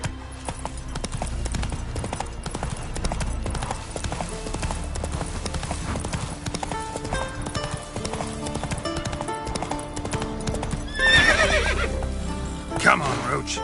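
Roach, the horse in The Witcher 3: Wild Hunt, gallops with steady, rapid hoofbeats over game music, then gives a loud neigh near the end; a voice talks over parts of it.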